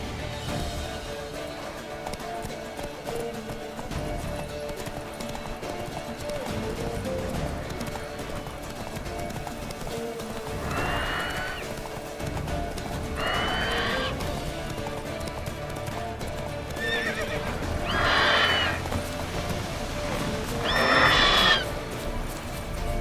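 A horse in The Witcher 3 clip-clopping at a steady gallop, hoofbeats continuous throughout, with several loud neighs and whinnies rising in the second half.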